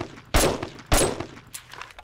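A semi-automatic rifle in the video game 7 Days to Die fires two sharp, loud shots about half a second apart, each with a brief echoing tail, followed by faint clicks.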